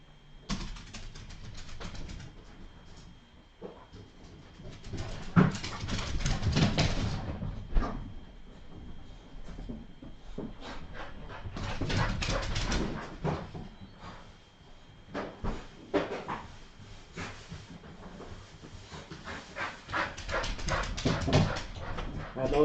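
Puppies being let indoors after a couple of hours outside, with dog whimpers and small yelps mixed among door and household clatter, coming in bursts close by across the stretch.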